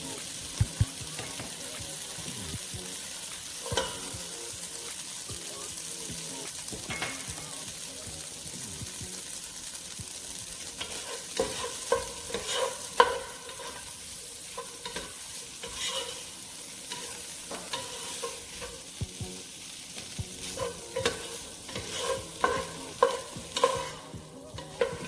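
Ham, sweet corn and green peas sizzle and crackle steadily in a hot pan while being stirred, with scraping and clinks throughout and some faint water-like sounds.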